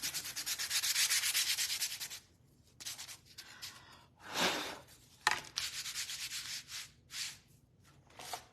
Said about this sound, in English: All right, and then we're gonna do a little sanding